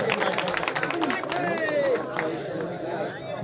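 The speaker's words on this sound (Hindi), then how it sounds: "जोरदार तालियों से स्वागत कीजिए इनका।" Audience applause at a bhajan competition award ceremony, sustained crowd clapping with chatter mixed in over a loud, dense background that stays level throughout.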